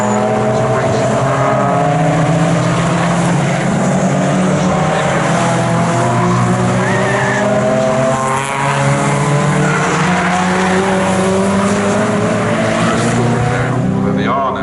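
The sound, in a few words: racing car driving on track at Snetterton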